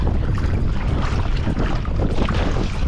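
Rough sea with heavy waves and strong wind buffeting the microphone while paddling a small craft on a water hike near a stranded cargo ship, a continuous dense roar and splashing with no talking.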